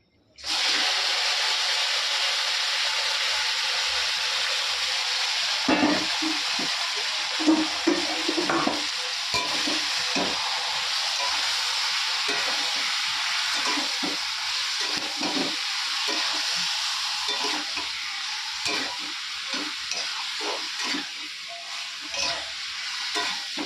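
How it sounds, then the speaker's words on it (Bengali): Whole garam masala spices frying in hot oil in a home kitchen: a steady, loud sizzle and hiss for the whole stretch, with occasional stirring clatter and brief talk. "তেলটা গরম হয়ে গেছে গোটা গরম মশলা দিয়ে দিয়েছি"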